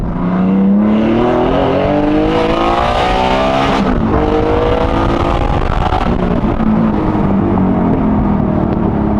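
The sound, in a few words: GT3 car engine revving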